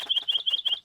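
Cartoon bird chirps in a quick, evenly spaced series of bright tweets, close and clear, heard alone for just under a second.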